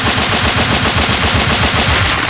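Rapid bursts of automatic gunfire from a firearm at a shooting session, a dense, continuous rattle of shots fired close by and loud, with no talking.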